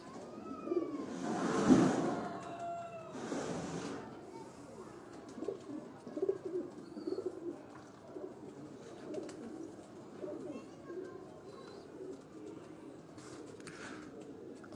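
Pigeons coo repeatedly nearby, soft throaty calls rising and falling over low background murmur, with a few louder coos near the start.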